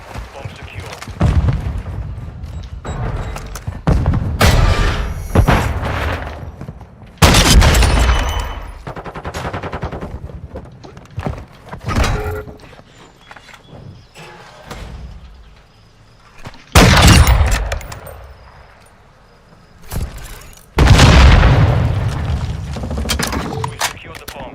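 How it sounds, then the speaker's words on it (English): Gunfire and explosive blasts in a Call of Duty search-and-destroy match after a bomb charge is set on a target: loud broadband bursts and booms recur throughout, with scattered shots between them and players talking over the action. "Set a charge on the target and detonate"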